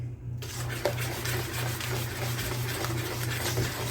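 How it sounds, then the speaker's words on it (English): A whisk scrapes and clinks steadily in a bowl as a baking soda mixture is beaten into a warm honey cake batter, a busy continuous clatter with a low hum underneath. "then we're going to whisk in the baking soda mixture we did"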